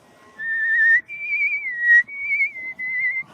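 A person whistles a tune from Snow White, a clear, close, melodic whistle in a few sustained phrases with short breaks and no talking.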